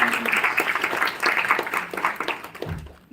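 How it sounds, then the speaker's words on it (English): A large group applauds speakers at a suicide prevention day event, a dense wash of many hands clapping steadily for about three seconds before it thins and cuts off, with faint voices mixed in. "can we once have a huge round of applause for all the people that took time out of their day to come"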